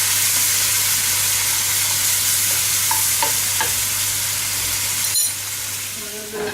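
A loud, continuous sizzle and hiss rises as cream goes into a hot pan sauce for guinea fowl. A few light utensil taps sound near the end as the bubbling eases slightly.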